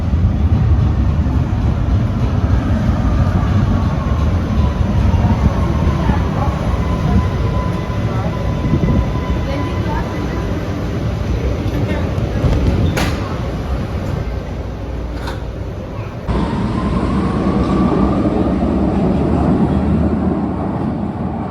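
Train and tram noise at a railway station: a loud, steady rumble of rolling stock with a faint rising whine, a couple of sharp metallic clicks, and an abrupt shift in the rumble toward the end.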